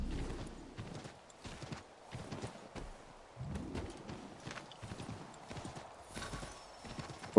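A horse in the Assassin's Creed III video game clip-clops at a steady gait with an occasional whinny, its hooves fairly close and prominent over faint background sound.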